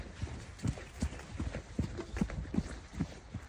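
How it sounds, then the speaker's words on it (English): Several horses move about on snow, their hooves landing in soft, irregular thuds close by, a loose uneven rhythm with no voices. "All the horses doing their own thing."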